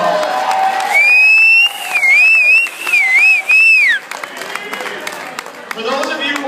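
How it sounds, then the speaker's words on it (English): Wedding guests break into loud applause and cheering for the bartenders, with whoops and a sharp rising whistle, before the noise settles into crowd murmur and talk. "So let's give them a round of applause."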